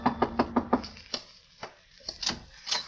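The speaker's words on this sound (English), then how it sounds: "only just then a knock came." Knocking on a door as a radio drama sound effect: five quick, evenly spaced raps on wood, then a few scattered softer thumps and shuffles in a quiet room.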